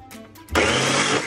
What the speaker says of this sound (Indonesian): kita blender sampai kembang